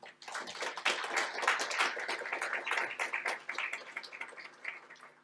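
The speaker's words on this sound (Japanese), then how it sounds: "皆様、盛大な拍手をお願いいたします。" Audience applause at a university award ceremony, many people clapping in a continuous, busy patter that rises quickly, holds steady for several seconds and then thins slightly toward the end.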